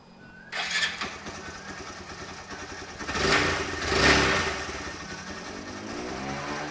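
A gasoline car engine cranks and catches after a fuel filter replacement, then surges through a couple of revs before settling into a steady idle, heard close with no talking.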